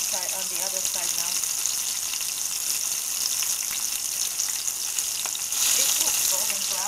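Chicken pieces fry in hot oil for crunchy fried chicken, a dense, steady sizzle with crackling pops that swells slightly near the end.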